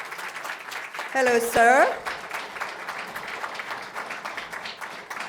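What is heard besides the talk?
press conference audience applauding director Anthony Russo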